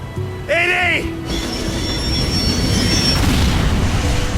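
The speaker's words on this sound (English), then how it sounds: "It begins with an out-of-control train." An out-of-control freight train rushes past at high speed with a loud, continuous roaring rumble. A brief wavering high-pitched squeal cuts in near the start.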